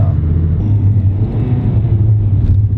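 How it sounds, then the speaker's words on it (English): A car rolling onto a cobblestone street in Paris, a loud, steady low tire rumble with engine drone close by, and a brief thump near the end. "no warning, you're onto cobblestone."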